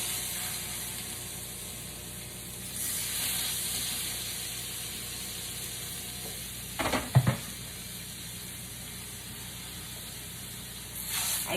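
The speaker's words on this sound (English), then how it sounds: "I'm going to just rest it individually on the skillet" Seasoned salmon fillets set individually in a hot skillet give a soft, continuous sizzle and hiss throughout, with a brief louder clatter of placement midway and a swell of frying near the end, no talk.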